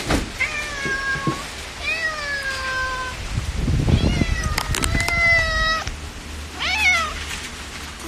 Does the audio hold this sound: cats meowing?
yes